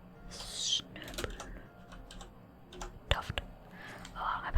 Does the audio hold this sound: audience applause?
no